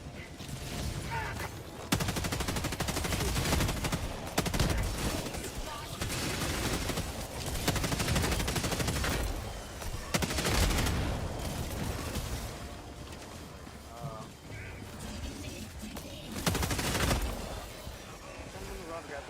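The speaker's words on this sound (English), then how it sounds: "Everything exploding." Explosions from an air support strike in Helldivers 2 roar continuously with heavy, booming bursts layered over gunfire, loud and dense throughout the chaotic battle.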